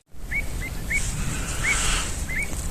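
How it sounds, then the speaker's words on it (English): Birds on a Thames beach give a series of short, rising chirpy calls, about six spaced across a few seconds, over a steady background hiss of wind or water. "Weird noises, some of these birds make."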